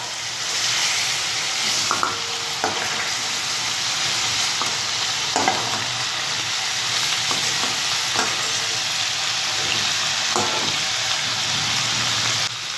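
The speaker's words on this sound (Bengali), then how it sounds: "চিংড়িটা একটু লাল লাল করে ভেজে নেব বন্ধুরা।" Prawns frying in hot oil in a pan, a loud continuous close sizzle and crackle with a few sharp spatula knocks and stirring scrapes.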